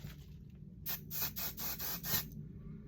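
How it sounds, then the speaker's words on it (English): A spray bottle of leave-in conditioner mists five or six quick, soft pumps in a steady rhythm, close by in an otherwise quiet room. "I'm going to spray this on"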